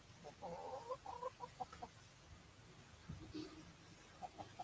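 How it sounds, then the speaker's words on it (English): Chickens wandering around outdoors, giving soft, close clucks and short rising calls in scattered bursts, quiet against a faint background hiss, with a few brief murmurs of clucking later on. "I'm being invaded by chickens right now."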